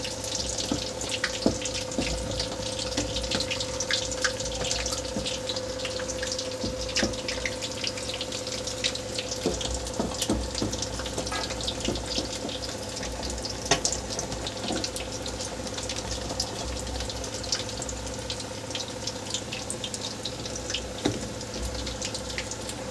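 Tap water runs steadily from a faucet into a bowl to thin chili and salt into a thick batter for fried chilies, a continuous broadband rush with faint drips throughout and no talking.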